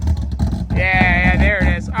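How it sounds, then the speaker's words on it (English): A Toyota Supra's engine revs up loudly with a rising, sustained roar, heard close by against steady background rumble. "Give it some revs."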